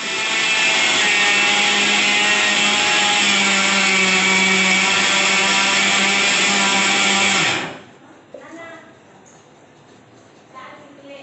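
A blender grinding peanuts runs loud and steady for several seconds with a harsh whirring grind, then cuts off abruptly, leaving quiet room sound with a few faint clicks.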